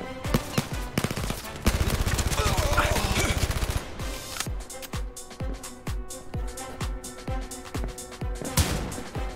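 Rapid machine gun bursts ring out in the Blood & Truth shooter game, a dense stretch of automatic fire followed by steady, evenly spaced shots over a backdrop of game music.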